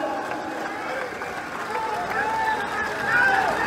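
Rally crowd applauding in welcome of politician Kamal Nath, a steady dense wash of clapping from a large audience with a loud voice carrying over it.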